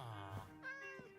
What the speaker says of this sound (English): Anybody else hear a kitty cat meowing?